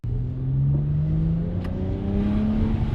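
A car engine revs up smoothly, its pitch rising steadily as it accelerates, close and fairly loud with no talking.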